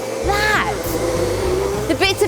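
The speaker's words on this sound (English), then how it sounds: "when they've been sucked up by the vacuum" A vacuum cleaner runs loudly and close, sucking tea leaves and bits of paper into its container, a steady motor whine with rising and falling pitch sweeps.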